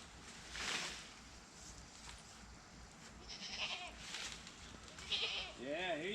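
Goats on a homestead bleat several times, faint and somewhat distant, with the last calls wavering and repeated, while people talk quietly nearby over soft rustling.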